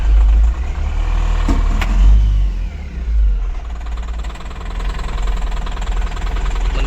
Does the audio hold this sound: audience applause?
no